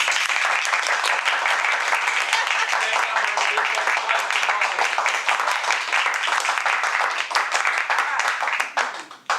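A room of Toastmasters club members claps fast and steadily at double speed, a dense, even rattle of hands that holds for about nine seconds before breaking off abruptly at the end.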